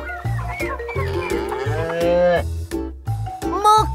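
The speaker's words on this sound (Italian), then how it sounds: "Mucca!" Cow mooing in a few drawn-out, wavering calls, loud and close, over a rhythmic low thumping backdrop with short pauses between the calls.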